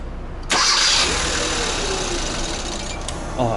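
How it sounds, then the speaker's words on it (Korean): A car with an electronic throttle body and an RPM-fluctuation fault cranks and abruptly catches. It settles into a close, fairly loud, slightly uneven idle for a few seconds, with a faint voice in the background. "자, 시동 걸어 볼게요."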